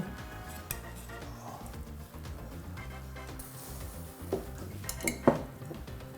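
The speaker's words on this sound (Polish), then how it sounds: "Bulion już jest gotowy, czyli przekładam wszystkie rzeczy do miski." Cooked ingredients for white borscht (barszcz zabielany), made with stock, are moved from a pot into a bowl with a few metallic clinks and scrapes of utensils against cookware near the end, over a steady background of music.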